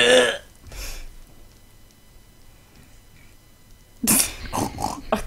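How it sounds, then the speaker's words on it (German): Pigs grunting in the video game Minecraft, a few short rough grunts in bursts at the start and again near the end, with a quiet gap between them and no talk over them. "Ach, das sind Schweine."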